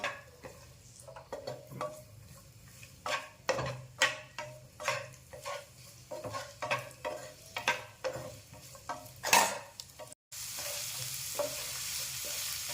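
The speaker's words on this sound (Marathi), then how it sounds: "कांदा आपल्याला थोडासा असा लालसर परतून घ्यायचा आहे." Sliced onion sautéing in a spoonful of oil in a pan, cooking for a Vidarbha-style modak amti: steady close sizzling with repeated scraping and stirring strokes of a spoon against the pan, and no talk.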